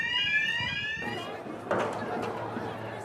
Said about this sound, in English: there was just the sound of the alarms in shops that had been broken into